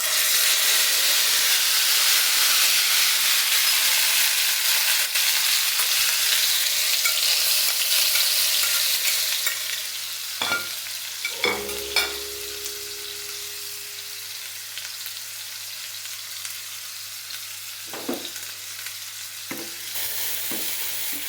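Marinated chicken mince cubes frying in oil and ghee, a steady sizzle and hiss that drops to a quieter fry partway through, with a few clinks and scrapes from stirring.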